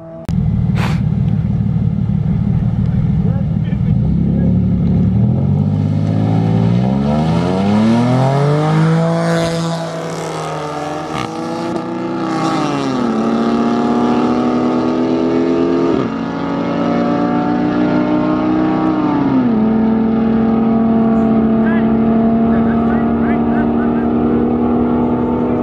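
Several cars race side by side, including a Subaru STI, a Lexus IS350 and a VW MK7 Golf R, their engines loud and close, revving up through rising gear pulls and upshifts without a break.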